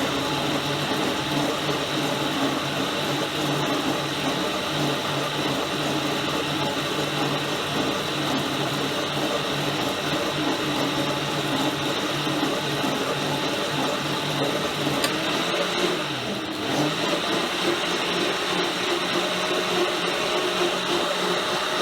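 A kitchen blender churning cream into homemade butter, a steady motor whir holding loud and even throughout with a brief dip and shift in pitch toward the end.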